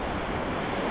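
Strong current rushes past at sea during a fishing trip, a steady broadband wash of water and wind noise, brief and unbroken, with no voices.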